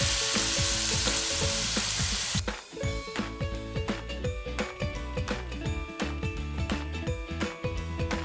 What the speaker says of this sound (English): once it's hot, like right now, then I'm going to drop in all of my jackfruit